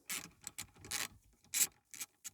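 Nut being undone on a Vauxhall Corsa D rear shock absorber held in a vice, a series of short scraping, ratcheting bursts, close and fairly quiet, with no speech.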